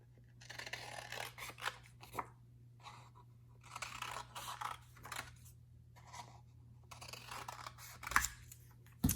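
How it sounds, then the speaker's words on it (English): Scissors snip through paper, cutting out pieces along dotted lines in several bursts of quick, close, crisp cuts with short pauses between, over a low steady hum and no talking. "we'll cut these out, and then they have little dotted lines that we'll cut down"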